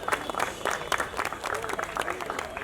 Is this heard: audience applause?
yes